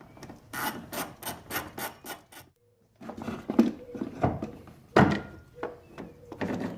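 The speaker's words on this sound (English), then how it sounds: "remove this 10mm fastener for a coolant reservoir. So go ahead and remove it." A 10mm fastener is removed from a car's coolant reservoir, quick rhythmic ratchet clicks followed by scraping, rubbing and a few knocks, close and fairly quiet, no talking.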